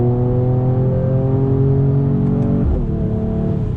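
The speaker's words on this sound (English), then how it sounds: "Love the pop from the exhaust when you shift." A 2020 Mercedes-AMG E53 accelerates hard in first gear, its engine droning loud and close with rising tones before an abrupt shift drop, heard alone without talk; the exhaust pops are not distinct.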